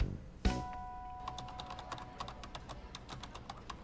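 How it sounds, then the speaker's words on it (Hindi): Keys are struck hard and fast on a computer keyboard, a sharp thump followed by a steady run of crisp, close clicks with a faint tone in the background. "अरे कीबोर्ड टूट जाएगा।"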